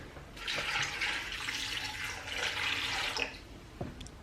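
Water pours in a steady splashing stream for about three seconds into a pressure cooker pot of baby carrots, then stops, followed by a couple of light knocks.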